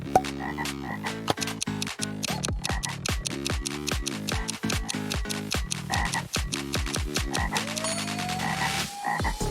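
Loud, rhythmic frog croaks repeat rapidly and evenly, one after another, close and dense with no talking, ending in a brief rising tone.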